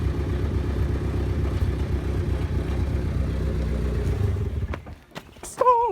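A Nissan 240SX engine idles with a low rumbling chug for several seconds, then cuts out abruptly with a shudder and clatter, leaving near silence before a voice speaks.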